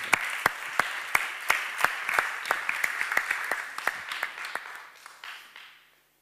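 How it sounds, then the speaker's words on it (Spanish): An audience at a documentary event in Barcelona gives steady applause: a few clear claps in a fairly even rhythm, close and moderately loud, thinning out and fading away in the last second. "Último aplauso del día de hoy y ya vamos terminando."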